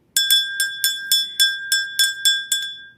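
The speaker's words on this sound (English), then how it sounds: "But we're going to ring this bell." An heirloom family hand bell is rung close by about ten times in a quick, even rhythm, each strike a bright metallic ding that rings briefly before the next.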